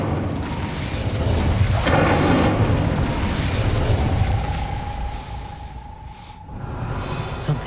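Casting the Incendio fire spell in Hogwarts Legacy brings a rumbling, booming burst of flame with crackling texture, loud and close, then fades into a lingering tonal hum and quieter background.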